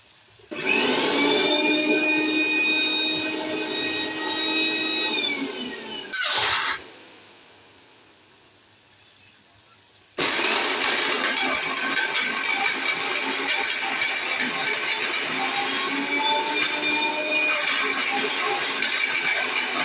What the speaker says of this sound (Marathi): आता मी मिक्सर सुरू करते आणि बारीक करून दाखवते